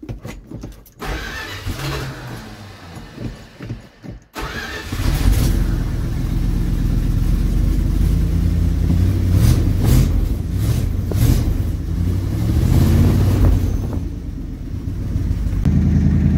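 The engine of a 1978 Dodge Adventurer motorhome cranks, catches and settles into a steady, loud idle with a deep rumble that holds for several seconds.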